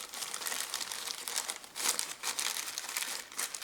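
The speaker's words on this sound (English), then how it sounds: "in that area I install second plastic bag" A plastic bag crinkles and rustles as it is handled around engine parts on a BMW 3 Series during fuel injector removal, a steady close crumpling sound with no voices.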